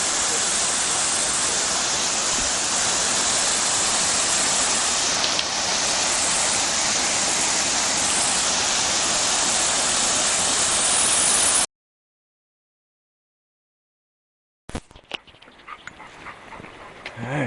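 Steady, loud rushing roar of the Falls of Big Stone Coal Creek in the Dolly Sods Wilderness, continuous for about twelve seconds before cutting out, then returning fainter and rougher near the end.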